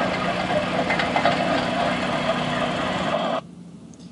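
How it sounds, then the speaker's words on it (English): Steam tractor engines run at an outdoor show, a loud, steady mechanical rumble and chugging up close that cuts off abruptly near the end. "then there's all these steam tractors all over the place"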